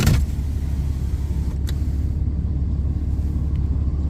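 Slow traffic crawling along an icy winter road, a steady low rumble of car engines and tyres heard from inside a vehicle, continuous and fairly loud, with a couple of faint brief clicks.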